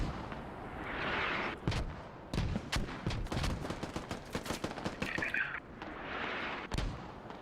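Mortar barrage in the game Squad: a rapid series of sharp, heavy explosions and cracks bursting in irregular clusters, loud and close, with no talk.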